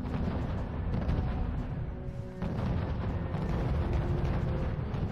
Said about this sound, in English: Okay, now Honorak is shooting right inside the base again.